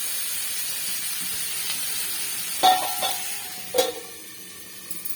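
Asafoetida and turmeric cooking in a pan over low heat, a soft steady sizzle with a few sharper crackles and pops partway through.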